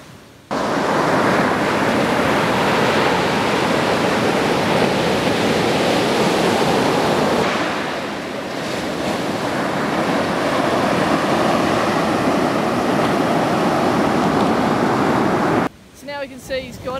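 Ocean waves break at a surf spot in a steady, loud roar of surf and wash lasting over fifteen seconds, easing slightly midway before swelling again, then cutting abruptly to a few faint sounds at the end.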